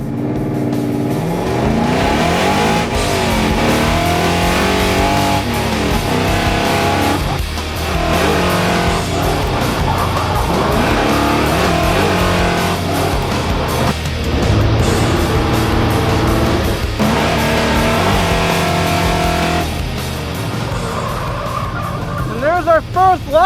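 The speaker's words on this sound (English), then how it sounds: "We're gonna make our first official pass." A 1990 Ford Mustang driving a lap on a track, its engine revving up and down loudly through gear changes with brief tyre squeals, a person talking over the engine.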